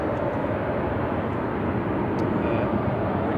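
An airliner taxiing at Manchester Airport makes a steady broadband engine rumble at moderate distance, continuous for a few seconds without talk.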